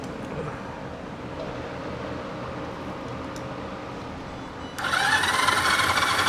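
A barn-find Yamaha TX500 motorcycle, unused for twenty years and with no spark, is cranked by its electric starter. A loud, even whirring churn starts abruptly near the end after a quiet stretch and continues without catching.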